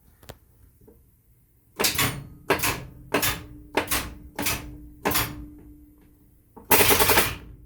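Electrical switchgear in an EU07 electric locomotive clacks in a series of seven sharp, loud contactor bangs at roughly half-second to one-second intervals, the last a longer rattling burst, heard close inside the cab.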